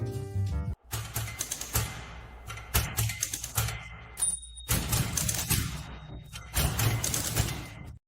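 A big, clunky vintage typewriter striking letters onto paper in rapid bursts of sharp clacks, with brief pauses and carriage-like thumps between runs, close and fairly loud with no talking.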